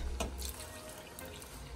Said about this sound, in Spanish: Y ahora vamos a agregar un litro de leche